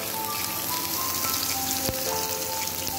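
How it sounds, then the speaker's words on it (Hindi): Chapli kabab patties fry in a pan of hot oil with a steady, loud sizzle and crackle that continues throughout. "चपली कबाब बनाएंगे और इसे अब हम फ्राई करेंगे"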